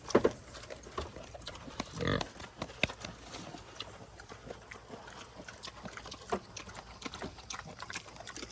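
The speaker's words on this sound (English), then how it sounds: "Got little pigs over there." Small pigs on a farm grunt and oink intermittently at close range, mixed with scattered movement noises and bursts of talk from a person nearby.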